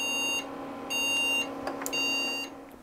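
A computer beeps three slow times at power-on, a steady electronic POST error code signalling a RAM fault, with even gaps between the tones over a low background hum.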